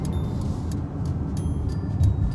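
A Mercedes GLA 250 AMG Line crossover drives through the city, with a low, steady engine and road rumble heard from inside the cabin, plus a few faint clicks.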